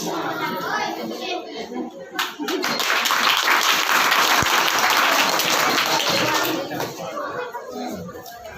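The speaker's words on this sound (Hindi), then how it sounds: "अरे कम से कम ताली को बजाओ।" School children clapping at a Bihar Diwas programme in a village school, a burst of applause that swells after a couple of seconds, holds loud for several seconds, then thins out, with some chatter around it.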